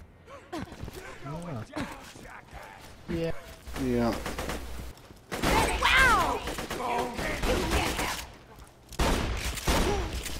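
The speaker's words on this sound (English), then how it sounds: "Shotgun's pretty sweet, actually." Shotgun blasts and bursts of gunfire from Borderlands 2 crack out in rapid, loud volleys, with people talking and exclaiming over the shooting.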